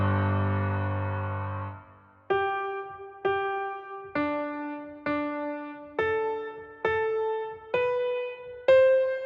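Piano slowly playing the intro of a song in a worship tutorial, opening with a sustained low chord that fades, then a series of evenly spaced, gently struck chords, each ringing out clearly and alone.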